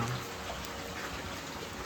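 Soft, steady patter of rain, faint and unbroken for a couple of seconds, with no voices.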